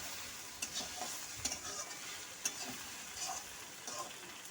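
Fish roe curry simmering in a pan after a small splash of water, giving a steady close sizzling hiss broken by a few soft stirring clicks, with no talk.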